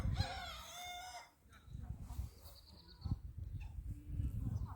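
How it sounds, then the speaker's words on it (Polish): A rooster crows loudly for about a second, then clucks, rustling and a more distant crow follow amid village farmyard noise near Kudowa-Zdrój, Poland. "W tle pieją koguty."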